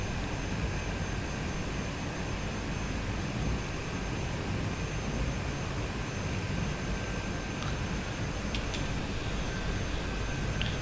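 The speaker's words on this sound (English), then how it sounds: "So let's get this aircraft parked and we can shut down." Simulated aircraft taxiing to parking at an airstrip in Microsoft Flight Simulator 2020, set in Kenya: a steady, loud engine drone and broadband whoosh holds unchanged throughout, with no talking.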